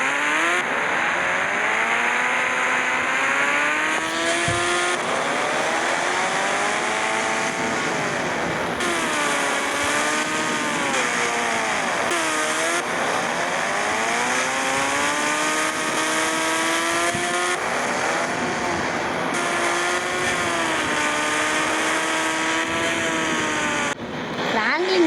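A motorbike in the Indian Bike Driving 3D game strains uphill, its engine whining in rising and falling harmonic sweeps as it revs and shifts, loud and continuous under intermittent talk.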